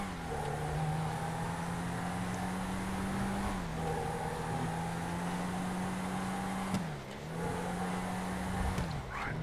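A Declasse Rhapsody, a small front-wheel-drive car in GTA Online, drones from inside with a steady loud engine note that holds constant, dips briefly at a few gear changes and resumes, with no voices.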